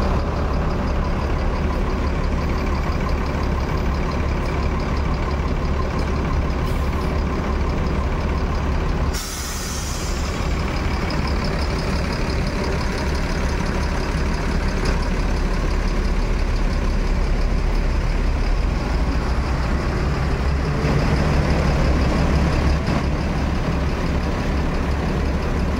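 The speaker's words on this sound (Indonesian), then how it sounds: "Masuk lagi bus NPM dengan nomor lambung V67." A West Sumatra intercity bus idles at departure with a steady, loud, deep diesel rumble that runs throughout, broken by a sharp hiss of air brake release partway through.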